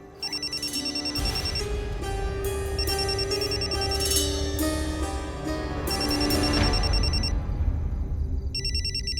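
A mobile phone ringing inside a bag plays a repeating melodic pattern, moderately loud and a little muffled, looping several times before briefly cutting off and starting again.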